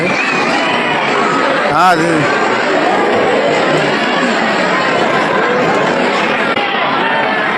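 A dense crowd at the Maa Bamleshwari temple in Dongargarh keeps up a steady, loud chatter that never lets up, with one voice rising briefly above the din.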